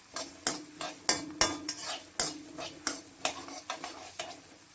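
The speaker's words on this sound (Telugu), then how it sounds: "ఈ ఉల్లిపాయలు కూడా బాగా ఆయిల్లో వేడెక్కాలి" Chopped onions, two large ones, frying in hot oil in a pan for a prawn and tamarind-leaf curry, with a soft continuous sizzle under repeated sharp scrapes and clinks of a spoon stirring against the pan, close by.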